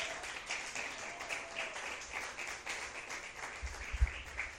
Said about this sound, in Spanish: Denle un aplauso en esta noche al Señor.